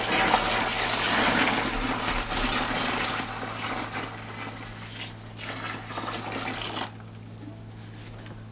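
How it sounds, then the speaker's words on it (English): Hot water pours steadily into a bucket while mixing homemade laundry soap, a loud, continuous gushing stream that eases off in the last couple of seconds. "I'm just going to pour the rest of the hot water in"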